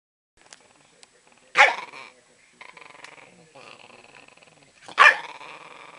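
A small dog gives two sharp, high barks between stretches of low, rumbling growls, close by and fairly loud.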